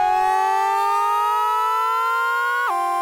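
An Arturia MicroFreak synthesizer holds a bright, buzzy sustained tone whose pitch slowly glides upward, then drops sharply near the end, loud and alone with no voices.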